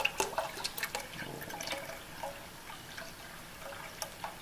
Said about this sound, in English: now in a separate pot, I'm putting all of my stock in